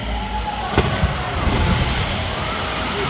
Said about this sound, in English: killer whales can communicate by leaping out of the water and making a huge splash